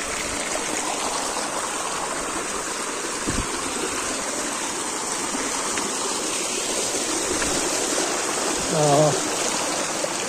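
A forest stream flows steadily along a trail toward Shilbunia waterfall in Alikadam, Bandarban, Bangladesh, its broadband rushing water continuous and fairly loud. A brief thump and a short tonal sound occur near the end.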